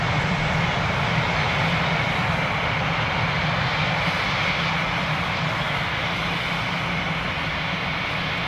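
An ATR turboprop aircraft arriving at an airport from Newcastle, a loud, continuous engine drone and propeller roar filling the whole span at constant strength.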